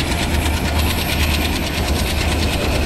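Train rumbling along steadily on the Central Railway route in Train Simulator Classic, a continuous loud low roar with faint rhythmic clickety-clack of wheels, no voices.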